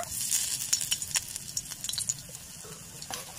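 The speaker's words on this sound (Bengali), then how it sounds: "এখন একটু ভেজে নেব।" Cabbage sizzles steadily in a hot pan for savory fritters, a soft continuous hiss dotted with small crackles and pops, faint and close with no voices.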